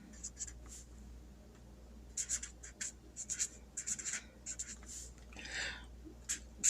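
A Sharpie marker writes out a question on paper in short, squeaky strokes, close and fairly quiet, with bursts of scribbling separated by brief pauses and a low steady background hum.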